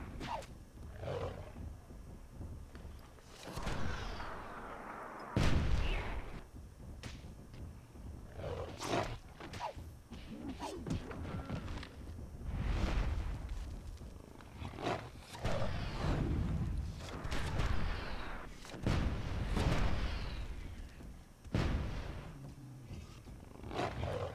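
Dwarven mortars firing and exploding in the Myth II Soulblighter video game, with several heavy, booming blasts spaced a few seconds apart against a rumbling battlefield din.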